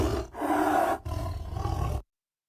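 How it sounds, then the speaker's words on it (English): A tiger roar played as a sound quiz, two loud, rough sustained roars back to back, then an abrupt cut to silence. "Tiger is the correct answer"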